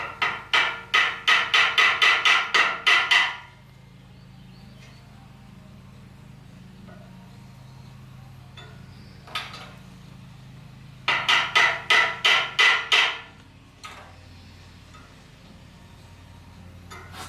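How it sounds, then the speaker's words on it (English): Two bursts of rapid brass hammer taps on metal, about a dozen quick strikes each, separated by a long quiet stretch with a few isolated clinks, during work on a Nissan Hardbody D21 minitruck. "I got my little brass hammer here"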